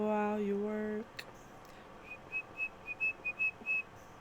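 A person whistles a string of short, bright notes in a quick broken rhythm. The whistling is faint and close, and follows a brief sustained tone at the start.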